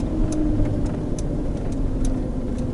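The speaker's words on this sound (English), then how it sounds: "I'm also using back compression on the brakes to brake the Jeep down instead of using the brakes." A manual-transmission Jeep slows by engine braking in gear, its engine a steady, loud, close drone held throughout with no brake use.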